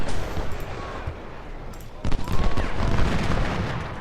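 Cannon and rifle fire in the video game Ultimate General: Civil War crackle as dense, continuous volleys, growing heavier and louder after a sharp boom midway.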